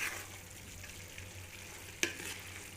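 Cabbage and chana dal sabzi being stirred in a pan, a soft steady sizzle with faint scraping and one sharp clink of a utensil against the pan partway through.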